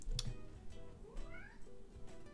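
A house cat meows softly indoors, a couple of quiet rising and falling calls with faint background rustle and no speech.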